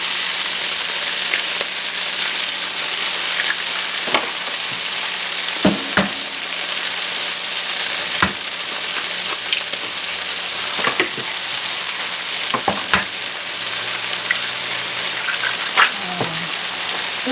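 Eggs cook in a pan with vegetables and meat for a breakfast filling. A loud, steady sizzle runs throughout, broken by periodic scraping strokes of a utensil stirring the mixture.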